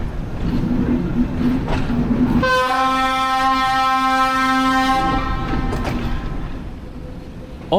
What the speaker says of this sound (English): Our train sounds its deafening horn multiple times as we cross the unguarded level crossing just beyond the station.